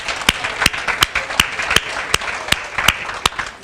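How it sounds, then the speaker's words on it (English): Applause at a resource fair for the vendors, a moderate patter of clapping from a modest crowd with a few sharper, regular claps standing out, no talk over it. "So let's give them a round of applause."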